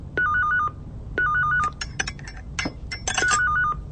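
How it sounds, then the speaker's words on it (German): An old-style telephone bell rings in two clear double bursts, followed by a flurry of clinks and short electronic tones as the receiver is handled, close and alone without speech. "Telefon?"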